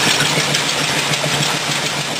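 A rat rod roadster's engine, freshly cranked up, runs at a steady rough idle, loud and close with a constant rumbling drone and no talk.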